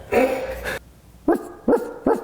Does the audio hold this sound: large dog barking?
yes